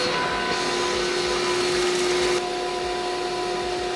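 A shop sump cleaner pumps machine coolant, producing a loud, steady vacuum-like whine with a constant tonal hum; the airy rush drops slightly partway through, then the motor drones on evenly.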